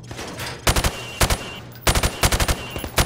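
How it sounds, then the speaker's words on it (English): Rifle fire from the hip at targets in Call of Duty: Modern Warfare Remastered: several sharp, loud bursts of rapid shots, three or four rounds each, separated by brief pauses. "Now, shoot at the targets while firing from the hip."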